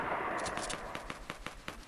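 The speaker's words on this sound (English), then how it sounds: "they're having a sniper battle out there" Distant sniper gunfire crackles during a Fortnite match, a series of sharp, fairly regular shots heard alone at moderate volume.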